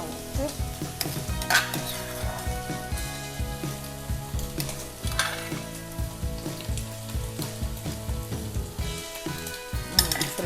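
Jackfruit is stir-fried with red curry paste in a pan, giving a continuous sizzle broken by repeated scrapes and clinks of a utensil against the pan, close and fairly quiet, with no talk.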